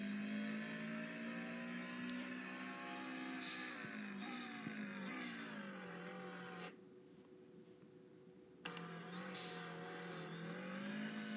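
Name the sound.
Subaru car engine accelerating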